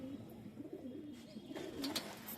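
A tournament-flown breed pigeon coos softly nearby, a low rolling call repeated over faint background noise.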